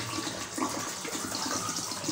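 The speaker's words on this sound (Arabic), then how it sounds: "عا خلطتو عاد نزيد عليه الماء" Water pouring steadily onto olives in a container while curing them, a continuous close splashing rush with no break and no talk.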